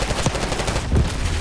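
Gunfire from the video game Call of Duty Black Ops 6: a couple of short, punchy automatic bursts close up, separated by brief pauses over steady game background noise.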